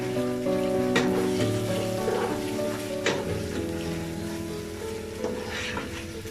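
Ginger and garlic paste with ground cumin sizzles and fries in a pan for khichuri, a steady crackle with scattered sharp pops and scraping stirs.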